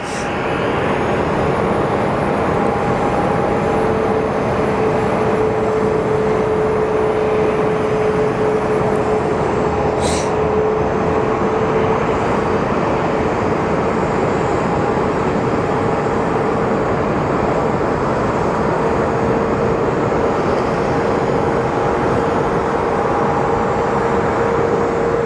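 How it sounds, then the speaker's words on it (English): United Boeing 737 departing Sky Harbor airport, heard as a steady, loud, broadband jet roar with faint tonal whines that holds unbroken from start to finish. "up next we are going to be getting a United 737 that's going to be departing"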